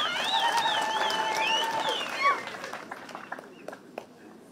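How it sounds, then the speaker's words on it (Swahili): A Catholic church wedding ceremony, where high warbling voices give way to a thinning patter of handclaps that fades into scattered single claps. "Makofi."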